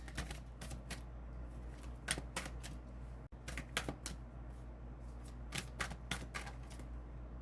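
Tarot cards being shuffled, a series of quick, quiet riffling flutters and soft snaps in irregular bursts over a low steady hum, fairly faint and close.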